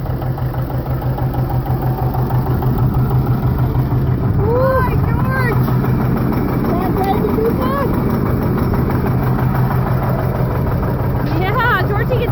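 John Deere 70 diesel tractor engine running steadily and loudly close by while dragging and cultipacking a field, with people talking over it.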